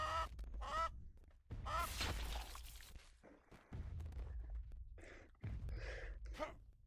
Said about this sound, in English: Now there's a chicken.